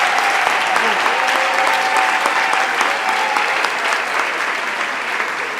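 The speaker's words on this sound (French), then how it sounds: "Alors on peut acclamer toutes les chorales de la paroisse." A church congregation applauds the parish choirs: loud, sustained clapping from a large crowd filling the room, steady for several seconds and tapering only slightly at the end.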